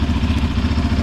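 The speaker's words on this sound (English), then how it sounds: "I gotta change the exhaust. Stock exhaust is okay, but I wanted to sound louder for sure." Motorcycle engine with a stock exhaust idling or running steadily, a dense low rumbling throb that is close and loud throughout, with no voices.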